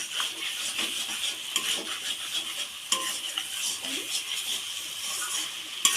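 Masala for a foli fish curry being sautéed in oil, with a spatula scraping and stirring in the pan over a soft sizzle, repeated close clattering strokes and a faint voice in the background.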